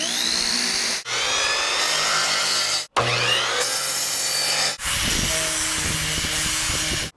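A power sander grinds steadily on a wooden part of a steel sailboat build, a loud continuous rasping whir that stops briefly twice and restarts, close up.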